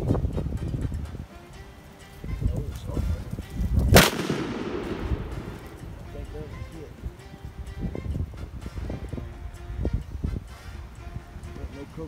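A single loud rifle shot cracks out at close range outdoors, a WW2 .30-06 armor-piercing or modern 5.56 green-tip round fired into red oak, its sharp report trailing into rustling wind with faint background voices.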